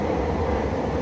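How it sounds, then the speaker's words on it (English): Trains rolling past nearby, a steady low rumble of rail cars filling the whole second with no break or voices. "have trains going by."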